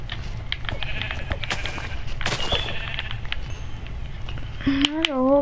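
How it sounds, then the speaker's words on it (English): Sheep bleating in the video game Minecraft, a couple of short wavering bleats near the end over steady game noise, clicks and a player talking. "There's a whole pack of sheep right there."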